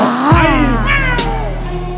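A cat meow sound effect dropped into a rap song, one drawn-out, wavering meow sounding loud and close over a steady beat.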